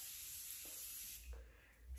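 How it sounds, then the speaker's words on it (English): A short, soft hiss of setting spray misted onto a face, a faint airy burst of aerosol spray that fades out, close and quiet with no talking. "setting spray."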